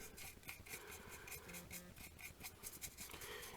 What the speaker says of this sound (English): we're going to just dry brush a little around the spine area here